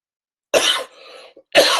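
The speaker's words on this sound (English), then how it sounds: "I just got this darn cough thing I can't shake." Two sharp, close coughs separated by a short pause, the first trailing into a breathy rasp.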